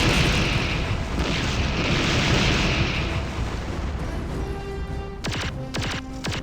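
Turrets explode in the video game Heavy Gear II: a loud, continuous rumbling blast that gradually fades and is followed by a few sharp metallic hits near the end.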